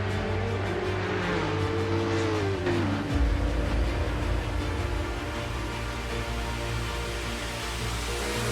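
An American Le Mans Chevrolet Camaro race car in Assetto Corsa, with the engine note rising and shifting as it launches from a race start, steady and prominent throughout.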